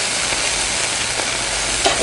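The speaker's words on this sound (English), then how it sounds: "at the last minute we put it over the charcoal and we sear it" Bone-in rib eye searing over hot charcoal in a Weber kettle, a loud, dense, continuous sizzle close up with a faint pop near the end.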